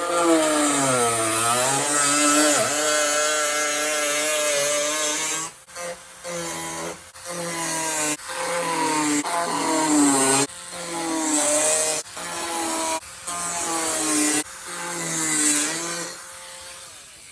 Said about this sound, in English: I'm just gonna use a thin abrasive saw.